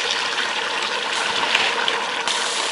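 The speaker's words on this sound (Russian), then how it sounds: "Водой заливаем сюда? Кипяченой водой." Boiled water is poured into a kazan for Uzbek plov cooked outdoors at Lake Baikal, making a continuous, close, rushing splash that lasts a few seconds.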